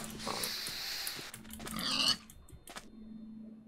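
Pig in Minecraft, a few short oinking grunts mixed with clicking keyboard and game sounds, moderately quiet and close.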